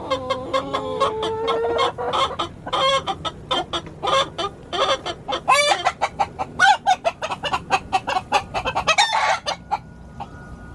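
Bantam chickens clucking close by as one of two bantam roosters crows, a busy farmyard mix of rapid repeated clucks and drawn-out crows that grows denser and choppier toward the end, loud with no talk.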